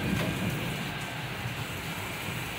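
Heavy rain pours down outdoors before an evening reception party, a dense, steady broadband hiss of rainfall with no talk over it.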